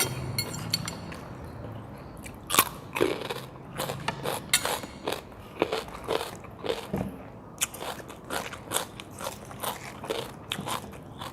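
Repeated crisp crunches of someone biting and chewing raw cucumber and baby corn, close up, in an irregular rhythm with no talking.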